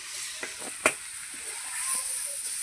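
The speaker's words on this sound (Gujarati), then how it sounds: "આ બધું હલાવી અને મિક્સ કરી અને ઘડીક વાર ચડવા દેવાનું છે" Eggplant oḷo, a rustic Gujarati dish, sizzles softly in a pan as it is stirred, with a few light spoon clicks against the pan over a steady faint frying hiss.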